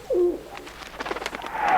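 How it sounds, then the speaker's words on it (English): A pigeon coos close by, a short throaty call followed by a burst of rustling wing flaps as it takes off, ending in a brighter fluttering rush; no talking. "That pigeon will be miles away by now."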